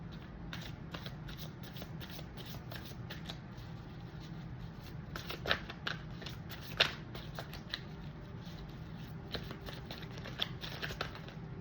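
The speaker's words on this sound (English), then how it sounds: "I'm asked to shuffle one more time." Tarot cards are shuffled continuously and close up, a dense run of soft riffling flicks and taps at an even pace with a few sharper snaps, and no talking over it.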